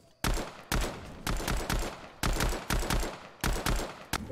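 Rapid bursts of ray gun fire in Fortnite Chapter 2 Season 1, loud sharp blasts repeating in quick uneven clusters with brief gaps between them, close and dominant.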